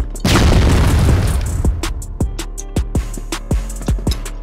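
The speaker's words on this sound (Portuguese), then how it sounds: "Granada de fumaça!" Smoke grenade in CrossFire bursting with a loud deep boom, followed by a series of short sharp hissing pops spaced irregularly as it goes off, with no talk.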